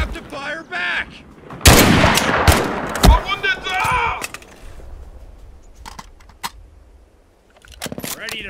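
Heavy gunfire and artillery in the Mud and Blood video game: a loud burst of overlapping shots and blasts around the two-to-four second mark, then scattered fainter reports, with a voice shouting early on.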